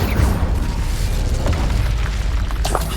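An Incendio fire spell blasts in Hogwarts Legacy, a loud, dense burst of roaring flame and booming rumble lasting a few seconds, with a brighter crackle near the end.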